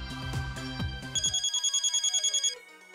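A telephone ringtone in the video game Hyperdimension Neptunia Re;Birth 2, a rapid electronic trilling ring that starts over fading music, repeating about a dozen quick pulses before stopping.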